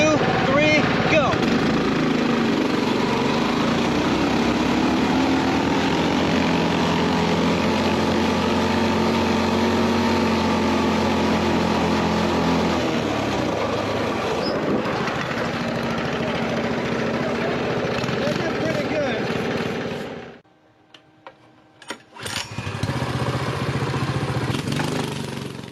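A Predator 224 max performance engine with an upgraded carburettor drives a Coleman BT200X mini bike, a loud steady buzzing drone with revs rising and falling, then cutting out briefly before starting up again with sputters.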